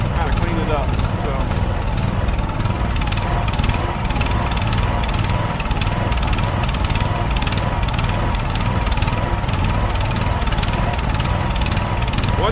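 A Cub Cadet log splitter runs steadily while logs are cut, giving a loud, continuous engine drone with rough mechanical clatter throughout, close by, with no breaks and no speech.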